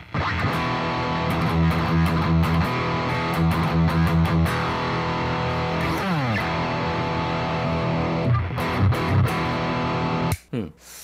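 Electric guitar through a heavily distorted BOSS GT-1000 CORE patch rings out in loud sustained chords and a sliding bend, then cuts off abruptly near the end.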